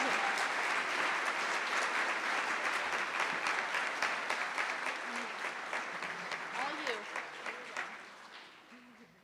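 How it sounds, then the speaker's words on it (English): At a nursing school pinning ceremony, a large audience applauds the instructors, a full, dense roar of clapping that holds steady and then slowly thins out, with scattered voices mixed in. "let's give a round of applause to these instructors and everybody else for their great work"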